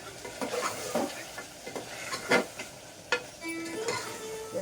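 Mutton curry spiced with cumin powder and mutton masala is stirred in a pan. Close scraping strokes and utensil clatter come in uneven bursts over a low sizzle, with a few sharper knocks.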